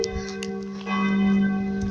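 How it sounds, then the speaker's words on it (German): Bells swinging in the tower of the parish church at Frankenthal near Bischofswerda keep ringing, steady layered metallic tones with fresh strikes swelling louder toward the end, heard alone without speech. "Ihr habt bestimmt jetzt gerade auch die Glocken schwingen hören."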